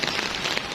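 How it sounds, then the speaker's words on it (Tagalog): Steady rain falls in Baguio, a dense, even patter of drops on surfaces with no voices. "ulan pa rin ng ulan dito sa Baguio"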